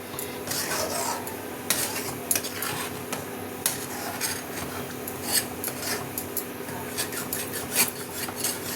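Chopped bottle gourd cooks in a hot pan with a little sugar, giving a steady close sizzle broken by repeated scraping and clinking of a spatula stirring against the metal, with no talking.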